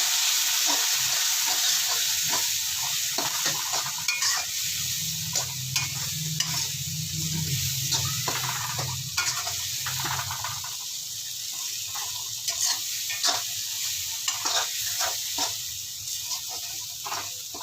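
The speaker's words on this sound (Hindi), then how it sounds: "लाल मिर्च 1 चम्मच भर के डाल देंगे हम। इसको थोड़ा भून देते हैं।" Red chili masala fries in a pan with a steady, close sizzle throughout, broken by frequent spoon scrapes and stirring strokes, with no talking.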